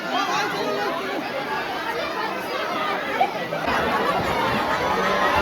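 Dense crowd chatter fills the air near the tiger enclosure at Byculla Zoo in Mumbai, a steady babble of many overlapping voices at close range, holding level throughout with a slight swell toward the end.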